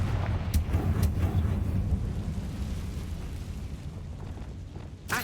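A Confringo fire spell blast in Hogwarts Legacy erupts as a deep, rumbling explosion with a few sharp cracks near the start, then a long roaring decay that slowly fades, with no talk.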